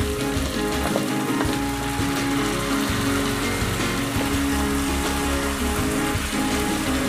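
Chicken pieces browned golden in a pan with gravy being added, giving a steady, dense sizzle that holds throughout, with occasional stirring or scraping sounds over a continuous low rumble.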